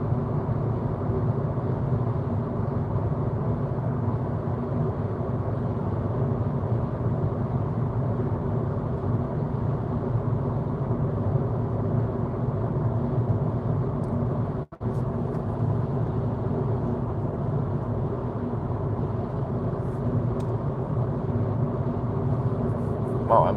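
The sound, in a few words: VW e-Golf electric car interior noise at highway speed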